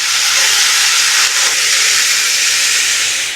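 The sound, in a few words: soy sauce poured into hot pan of beef sisig, sizzling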